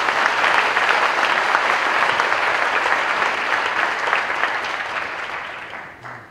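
An audience applauds at a live stage show on personal finance, producing a dense, even roar of clapping that holds steady, then tapers off toward the end.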